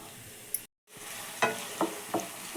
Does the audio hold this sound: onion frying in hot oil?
yes